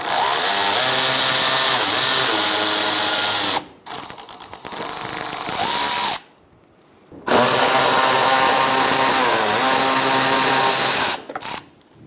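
Ratchet or power socket tool spinning out a bolt on the coolant reservoir of a 2000-2007 Ford Taurus, using a 5.5 mm socket; loud, close, continuous whirring in long bursts with brief pauses between them.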